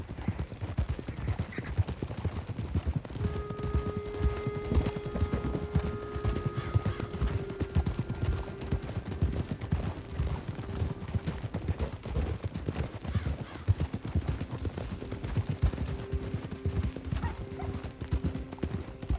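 Horse hooves clip-clop steadily throughout in Red Dead Redemption II, a continuous trotting rhythm with occasional neighs and whinnies over a busy game soundscape of background music and distant ambience.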